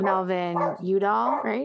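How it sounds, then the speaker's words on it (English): Dogs bark and whine close by in a home, loud yips overlapping with a person talking. "Sorry for the dogs."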